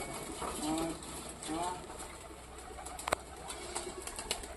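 Domestic pigeons kept for sale by a longtime pigeon keeper coo in low, rolling bursts, two clear calls near the start, followed by softer ambient rustling and a few sharp clicks.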